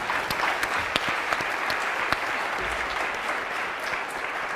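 Conference audience applauding at a plenary session, a dense, steady wash of many hands clapping throughout, fairly loud and continuous.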